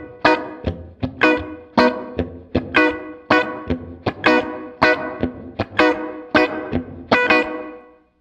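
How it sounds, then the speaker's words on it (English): An electric guitar plays a series of sharp, evenly spaced chords and plucked notes through a Fender Marine Layer reverb pedal, each attack trailed by a short ringing reverb tail, clear and close with no talk. "You can hear the reverb gets a little more prominent as that control gets up"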